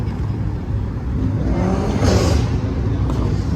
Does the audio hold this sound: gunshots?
no